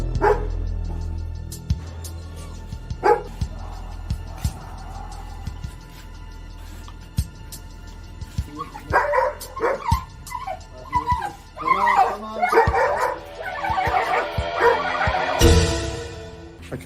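An injured dog that has been poisoned gives intermittent yelps, barks and whimpers, some brief and sharp, others drawn out, close by, with rustling and handling noise around it.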